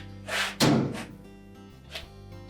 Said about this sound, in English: We can close the door up.